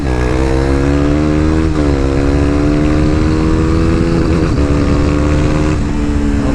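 A KTM RC 390 motorcycle engine at full throttle on a race track, a loud, close, steady high-revving drone with rising pitch and a brief gear change partway through.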